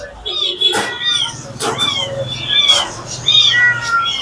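Persian cat meowing at a pet market, giving several high, plaintive meows in irregular succession, close and fairly loud, with background chatter and clatter between calls.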